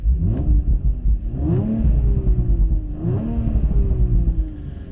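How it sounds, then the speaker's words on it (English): A 2019 Audi RS5 engine revs up and down in several rising surges, a close, throaty exhaust rumble that swells and falls repeatedly. "I mean, the exhaust sounds okay. Like, you can hear it."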